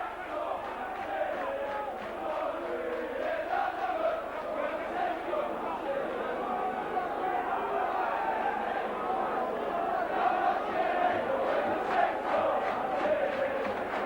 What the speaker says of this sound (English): Partisan Saints crowd get behind the team